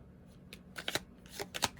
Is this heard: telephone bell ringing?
no